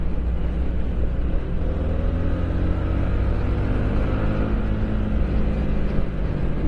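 Steady low engine drone and wind rush from a motorcycle cruising on an open road, continuous and close with no speech.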